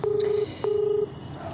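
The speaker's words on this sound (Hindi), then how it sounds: "यही नंबर है, डायल करता हूँ" A telephone number being dialed, with two clear DTMF keypad tones, each held for about half a second with a short gap between, fairly faint and heard alone.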